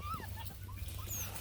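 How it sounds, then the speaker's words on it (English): A young beagle puppy whimpers and cries in a few soft, high, wavering whines, faint and close, with quiet background noise and no clear talk. "He's crying because he's down."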